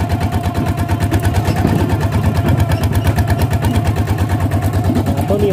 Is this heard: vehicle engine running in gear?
yes